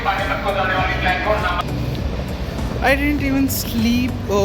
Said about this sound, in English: we are still on the Delhi Junction railway station because our train is 2 hours late